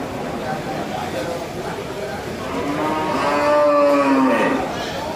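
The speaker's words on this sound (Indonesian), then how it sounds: "Sapi dari Rembang, teman-teman." A cow moos at a livestock market in Pati, one long rising and falling call against crowd chatter and people talking in the background.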